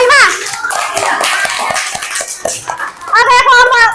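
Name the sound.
children's group applauding in a classroom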